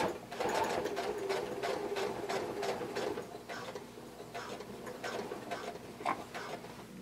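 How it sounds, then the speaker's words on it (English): A sewing machine stitches a blanket coat, the needle running in steady bursts with brief pauses between runs, close and clear over a quiet room. "we're going to sew until we meet the stitching of our sleeve"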